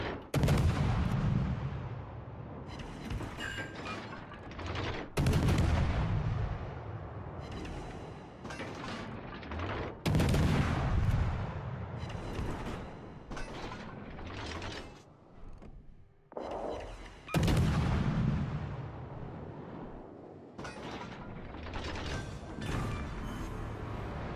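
Destroyer guns firing in a naval video game ring out as repeated heavy booming salvos every few seconds, each a loud blast with a rumbling decay, layered over steady ship and battle noise with no talking.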